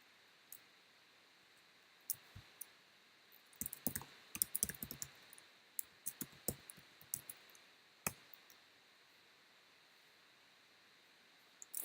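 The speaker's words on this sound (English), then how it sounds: "I'm typing a string, good." Light typing on a computer keyboard while writing code, scattered quick keystroke clicks in short irregular bursts, close and fairly quiet over a soft steady hiss, with no talking.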